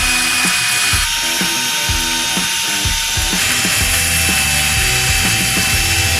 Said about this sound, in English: It's an attachment for a drill or an angle grinder, and it will take this sandpaper and wrap it around a piece of tubing